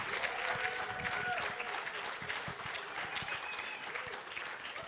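Sustained applause from a large audience at a women's leadership forum, welcoming an arriving guest, a dense steady wash of many hands with faint crowd voices mixed in, continuing without pause.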